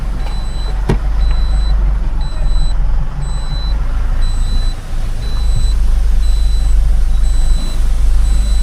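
A 5-ton truck engine idles steadily with a deep rumble, while a reversing beeper chirps at regular intervals throughout.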